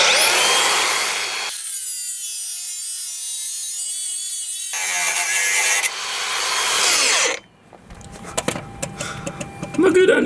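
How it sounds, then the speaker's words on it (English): An angle grinder cuts off an anti-roll bar on a Kia Sorento tow car with loud, harsh, sustained grinding. It comes in long bursts with short pauses, and the tool drops out near the end while scraping and clattering continue. "Plan B is always a grinder."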